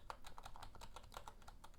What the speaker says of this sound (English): the sound does sound somewhat mechanical, but it's truly a membrane keyboard